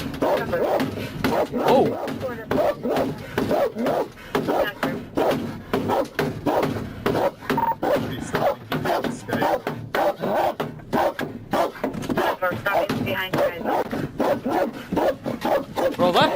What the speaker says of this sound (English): that has to be so annoying to hear that dog barking like that